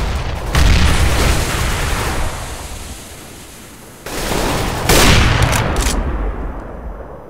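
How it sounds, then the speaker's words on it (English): Loud bursts of gunfire and a hissing smoke grenade release in Counter-Strike on the de_mirage map, two dense noisy surges separated by a quieter stretch, close and harsh. "Smoke! I'm throwing smoke! Grenade!"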